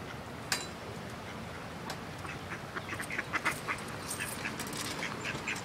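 Ducks and geese quack at a feeding spot, where someone is scattering corn and pigeons gather; scattered, moderately distant quacks and chatter repeat irregularly over a steady outdoor background.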